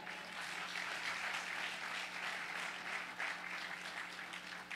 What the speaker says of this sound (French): nous applaudissons tête noire,